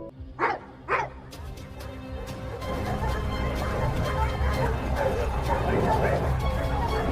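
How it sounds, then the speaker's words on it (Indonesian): Dog barking twice in quick succession from a scene in the film White God, followed by a dense, rising wash of noise that buries any growl. "Hagen terus-menerus menggeram ke arahnya."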